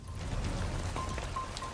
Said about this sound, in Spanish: En un día lluvioso como hoy